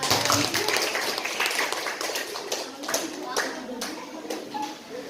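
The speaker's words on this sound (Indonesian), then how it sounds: "Tepuk tangan dong untuk Aulia." Classroom clapping for a student, a steady patter of hands, with children's voices chattering alongside and a few sharper claps standing out near the end.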